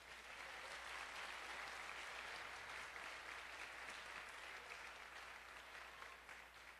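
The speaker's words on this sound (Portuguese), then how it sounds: "Você pode aplaudir o Senhor?" Steady, continuous applause from a church congregation clapping for the Lord during worship, a dense even wash of many hands with a faint low hum beneath and no clear talk over it.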